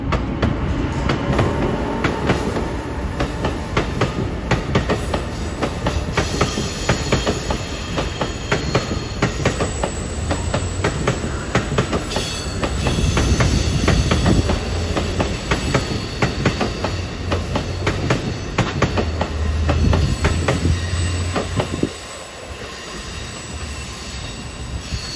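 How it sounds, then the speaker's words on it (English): Passenger trains roll through 30th Street Station in Philadelphia, a steady loud rumble of railcars with wheel clatter and squeals lasting most of the way, then dropping abruptly to quieter background noise near the end. "93 from Boston to Norfolk should be coming in. Right behind him will be 647 from New York to Harrisburg"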